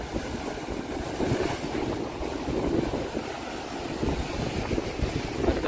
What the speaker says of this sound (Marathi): डेंजर लाटा आहे, डेंजर